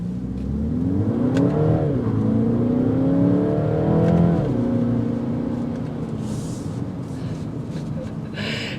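A 2023 Mini Cooper Countryman accelerates hard in sport mode, its engine rising through the revs with audible gear shifts, loud and close from inside the cabin, with no talking.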